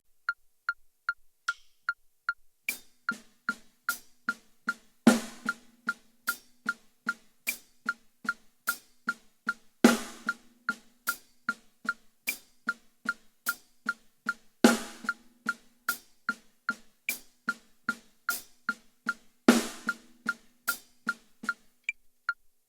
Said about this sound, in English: we're going to bring it down to the snare and we're going to play a rim shot with that note